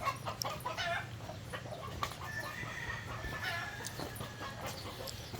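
Pet chickens at a rural Filipino home cluck and call in scattered short bursts over a low steady background hum, fairly faint and at a moderate distance.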